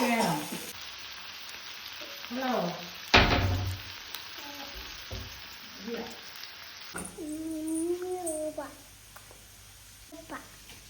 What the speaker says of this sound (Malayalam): അടുത്ത ട്രിപ്പ് ഞാൻ ഇട്ടിട്ടുണ്ട് വറുക്കാനായിട്ട്